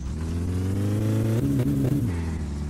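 A car engine in My Summer Car, fitted with a fault that robs it of power, drones at a steady mid pitch, then revs up and falls back around the middle before settling, loud and close, with no talk.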